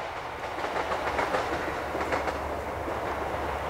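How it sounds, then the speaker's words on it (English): A train rolls past near a golf course, a steady continuous rumble with rhythmic clickety-clack of wagons on the rails, close and fairly loud for the whole stretch. "choo-choo train."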